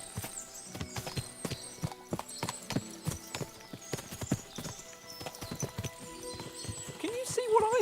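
Several horses clop along with sharp, rhythmic hoofbeats in Kingdom Come: Deliverance 2, with a whinny near the end and game ambience behind.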